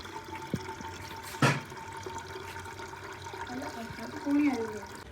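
Water running from a tap at a farm home, a faint steady flow with a couple of brief knocks and splashes.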